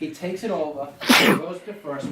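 One person sneezes once, a loud, close burst in the middle of a home baseball explanation, with talking before and after it.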